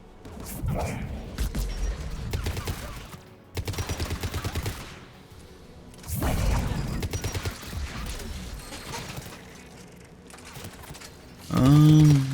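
Anti-aircraft guns in a video game fire in rapid rattling bursts, several volleys separated by pauses, moderately loud against a low background hum.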